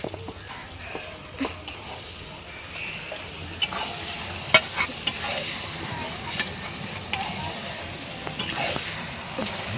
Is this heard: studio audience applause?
no